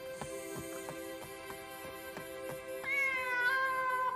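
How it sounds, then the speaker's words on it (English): A cat meows in a Demon Slayer anime episode, giving a rising, drawn-out cry over a steady musical background. "A cat?"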